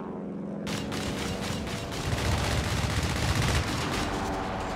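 Strafing run in Company of Heroes 3: dense, continuous rapid gunfire and rumbling explosions in a loud, sustained barrage that swells in the middle, with no talk.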